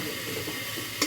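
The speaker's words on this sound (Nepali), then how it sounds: "अदुवा लसुन टाँसिन्छ क्या, त्यही भएर म चलाएकै छु" Ginger and garlic fry in a little oil while being stirred in a pan, giving a brief, continuous sizzle that ends with a sharp utensil clink.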